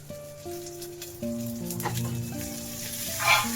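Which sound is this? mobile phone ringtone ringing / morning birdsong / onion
onion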